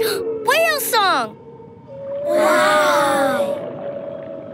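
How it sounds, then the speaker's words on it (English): Whale song in a children's cartoon: long, sweeping moaning calls that rise and fall, first a pair of swooping cries, then a louder, sustained wavering tone lasting a couple of seconds. "Whale song!"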